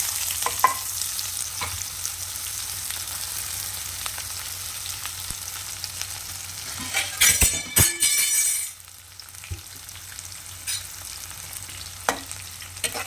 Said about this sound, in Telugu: గోల్డెన్ బ్రౌన్ కలర్ వచ్చే వరకు వేగించుకోవాలి.